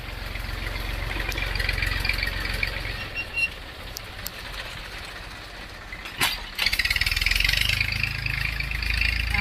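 A tractor drives past on a farm track with a steady, rumbling engine drone and some clattering, growing louder and closer toward the end.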